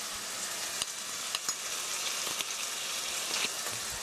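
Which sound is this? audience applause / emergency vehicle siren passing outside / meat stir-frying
meat stir-frying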